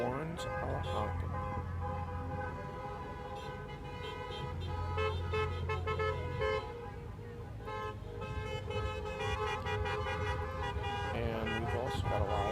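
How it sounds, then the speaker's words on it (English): Car horns honk repeatedly along a busy city street during a rally, with long sustained toots over a dense crowd and traffic noise, voices mixed throughout. "Horns are honking."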